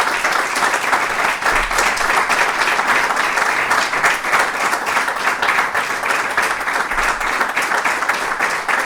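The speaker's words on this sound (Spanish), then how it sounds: "Vamos a aplaudirlo." An audience applauds steadily at a lecture, dense overlapping claps filling the room at an even, loud level throughout.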